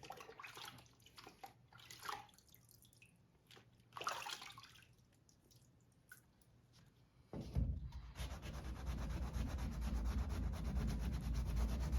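Scattered light scraping and rubbing give way to sustained, close hand sanding of a paint run and masking tape, coarse and continuous, with no talking.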